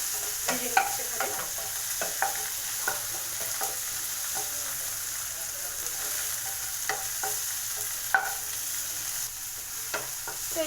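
Tomato and onion frying in oil in a pan for egg bhurji, a steady broadband sizzle with intermittent clacks and scrapes of a spatula stirring, close and continuous with no talking.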